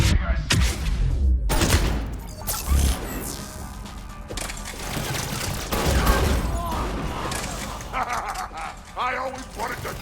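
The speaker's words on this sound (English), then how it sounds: "You always wanted to have a firefight on the CIC of my ship?" Gunfire rattles through a firefight in the ship's CIC in the video game Mass Effect 3, with bursts of shots, cracks and impacts, loud and close, while voices talk over the battle.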